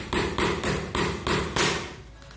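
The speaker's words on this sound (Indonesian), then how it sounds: "Wah, ini kita paku" Hammer driving a paint nail into a hard wall, six sharp evenly spaced strikes ringing close and loud in quick succession, with no talk.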